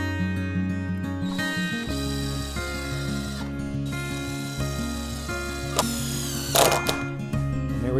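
Screws being driven into rough-cut barn door boards, with a steady mechanical drill drone that shifts pitch as each screw bites and scrapes, close and alone without talking.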